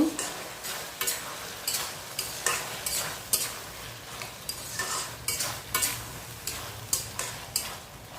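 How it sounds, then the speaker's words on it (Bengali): Carrots and tomatoes are stirred into beef pasta in a frying pan, a spoon scraping in steady rhythmic strokes over a soft sizzle, close and clear, with no talk. "এখন দিয়ে দেব গাজর আর টমেটো। ভালো করে মিক্স করে নেব।"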